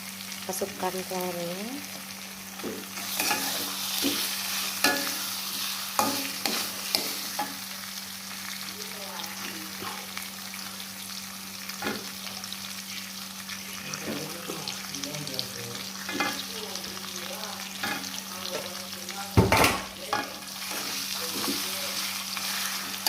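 Beaten eggs stirred in a frying pan after aromatics have cooked, with steady sizzling and scraping of a utensil, plus a short splash of water near the end.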